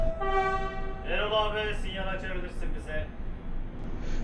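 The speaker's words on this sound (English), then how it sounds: "Trains here actually leave the station backwards." A train pulls out of Bandırma station running backwards, rear end first, on the line from Istanbul toward Izmir in Turkey. A horn sounds with steady harmonic tones, and rail rumble continues underneath while people talk nearby.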